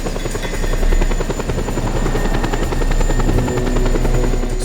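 A helicopter in the video game Just Cause 2 keeps up a loud, steady rotor thrum and engine whine, its blades chopping in a rapid even rhythm throughout with no voices over it.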